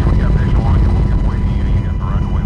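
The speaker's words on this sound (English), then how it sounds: "Three guard helicopters, including one from Colorado and another private chopper, make drops every 5 minutes." Military guard helicopters hover close overhead during flood relief drops, their rotors making a loud, continuous pulsing thrum with a speaking voice underneath.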